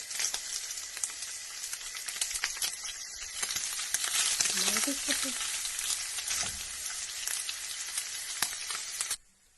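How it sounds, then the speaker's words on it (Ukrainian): Onion sliced into half-rings fries with pork tongue in a frying pan, giving a continuous close sizzle that stays loud throughout, with light utensil clicks and stirring, before cutting off abruptly at the end. "Цибульку нарізали напівкільцями і додаємо до нашого язичка."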